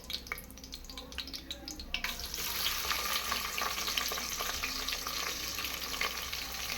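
Onions are dropped into hot oil in a pan for mushroom biryani, with a faint rattle before a loud steady sizzle that swells and stays constant, punctuated by light stirring clinks.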